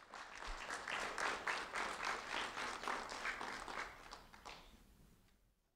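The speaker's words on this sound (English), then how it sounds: "a round of applause for Heriberto Dominguez, please." An audience at an award ceremony claps for a student honoree, a steady wash of applause that holds for several seconds at moderate distance, then thins and fades out toward silence.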